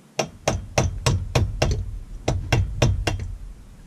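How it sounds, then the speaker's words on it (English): Eleven sharp metallic taps in an even rhythm, close and loud, as a small flat blade screwdriver works the Woodruff key off the crankshaft of a Husqvarna 181 chainsaw during teardown. "Small flat blade screwdriver."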